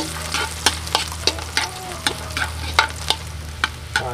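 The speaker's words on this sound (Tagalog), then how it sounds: "Okay, susunod na natin yung bawang. Ulahin lang natin saglit." Ginger and garlic sauté in a pan for Filipino chicken binakol, sizzling steadily under a regular series of sharp spatula scrapes and taps about every half second, close and fairly loud, with no talking.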